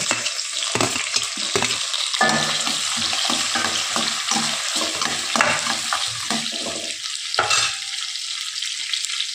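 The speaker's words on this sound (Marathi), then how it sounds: "आता यात टमाटे टाकूया." Finely chopped onion and tomatoes fry in a pan for sambar, a loud continuous sizzle broken by repeated scraping and stirring strokes close by.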